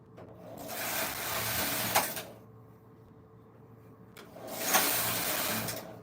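A Silver Reed knitting machine runs in two loud, rasping mechanical sweeps separated by a quieter pause, with a low hum beneath and no talking.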